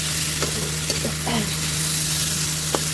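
Spiced fish curry masala stirred and sautéed in a pan, a steady close sizzle with a few scraping spoon strokes and faint background voices.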